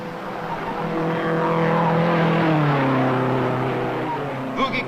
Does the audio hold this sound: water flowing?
no